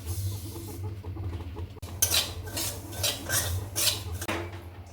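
Poppy seeds dry-roast in a pan while a spoon scrapes and rattles against the metal in repeated rough strokes, close and fairly loud over a low background hum.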